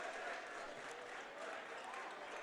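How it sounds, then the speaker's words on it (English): Fans in a high school boys basketball gym applaud their starting players, a dense, continuous wash of clapping from a crowd, with voices mixed in. "Now the Dale fans will come to their feet in unison to applause for their first 7 guys"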